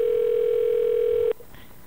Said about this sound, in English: Once again, the phone is ringing.